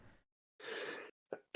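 A single sneeze from a person, a short intake of breath followed by a loud burst, with a small snort trailing after, heard up close during a podcast chat about games.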